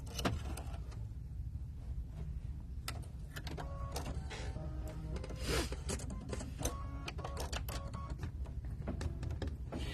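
A domestic embroidery machine sews a satin stitch on a watermelon shaker key chain, giving a fast, steady mechanical whirring and clatter with small clicks and motor shifts that runs continuously and close by throughout.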